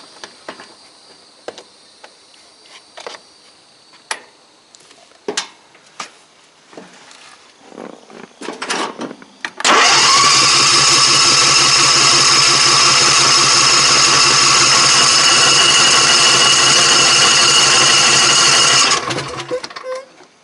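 A propane-fuelled race mower is cranked with scattered clicks and sputters, then catches and roars into a loud, steady buzzing idle that holds for about nine seconds before cutting off.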